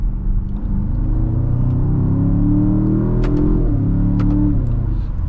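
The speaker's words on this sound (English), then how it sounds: "Here's some exhaust pops." A 2025 Land Rover Defender OCTA engine revs up under acceleration and eases off, loud and close, with a few sharp crackling exhaust pops toward the end.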